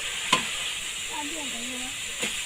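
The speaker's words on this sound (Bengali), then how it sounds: "মশলাগুলো দিয়ে ভালো করে নেড়ে নিচ্ছে।" Ground turmeric, cumin and coriander being stirred and fried in a pan, a soft low sizzle with two sharp scraping knocks of the spoon against the pan and a faint tonal hum in the background.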